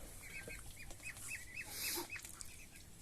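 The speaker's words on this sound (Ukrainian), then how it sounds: "От гуска." Repeated honking calls from grey geese on a Ukrainian homestead flock kept alongside muscovy ducks, several nasal honks in irregular bursts at close range over steady outdoor background noise.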